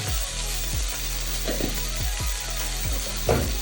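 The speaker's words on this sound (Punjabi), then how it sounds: "ਇਹਨੂੰ ਮਿਕਸ ਕਰਾਂਗੇ ਨਾਲ ਹੀ ਆਪਾਂ ਪਾ ਦਾਂਗੇ ਇੱਕ ਚਮਚ ਜੀਰਾ" A spoonful of cumin seeds sizzles in hot oil with onion, and a steady frying hiss runs throughout while repeated short scraping stirs break in at regular intervals, close and alone.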